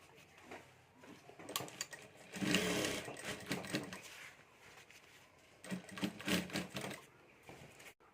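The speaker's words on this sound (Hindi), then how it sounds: "तो यहाँ से हमें बॉर्डर के ऊपर सिलाई कर देनी है।" A sewing machine stitches along the border of a handmade Banjara-style bag in bursts, its rapid needle clatter rising and falling with quieter pauses between runs.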